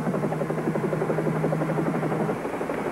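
A helicopter in flight gives off a steady, fast, thumping rotor chop over a low engine drone, held loud and even throughout with no voices.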